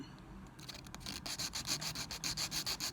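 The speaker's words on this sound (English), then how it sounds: "you want to start filing towards the front" Nail file rubbing back and forth over acrylic nail tips in quick, steady strokes, working toward the front of the tip; close, rhythmic scratchy rasping that grows louder after a brief quiet start, with no talking.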